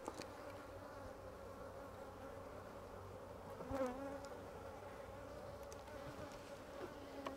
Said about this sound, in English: We can see lots of bees with pollen on them.